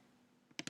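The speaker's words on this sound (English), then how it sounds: "I can type in the symbol, K" Two quick computer keyboard keystrokes, typing a stock symbol, sound close and distinct near the end, after a faint click, over quiet room background.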